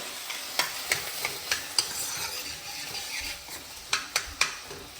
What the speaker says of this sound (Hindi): अब मैं इसमें डालता हूँ टमाटर। टमाटर को अच्छे से मैश कर लें।